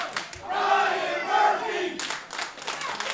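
Wrestling arena crowd at a live rassling show roars and cheers loudly, a sustained wall of voices with a brief lull before a second swell of shouting and clapping.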